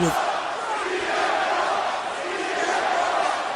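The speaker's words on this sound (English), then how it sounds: "The crowd is quite loud out there." A loud, dense crowd roars continuously in a WWE 2K video game wrestling arena, voices blending into a sustained chant-like wash that never lets up.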